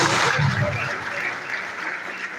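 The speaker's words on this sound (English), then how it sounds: "Please, can we once again give them a round of applause?" An audience at a university alumni general assembly applauds, a dense wash of clapping that starts loud and slowly fades over a couple of seconds.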